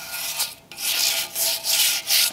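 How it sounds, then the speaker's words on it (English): A stiff brush scrubs rusty metal coated in rust dissolver in repeated back-and-forth strokes, close and loud, with a short gap between the first strokes. "that's why I like to use this brush to kind of just work in the areas where the rust dissolver can't get in real good"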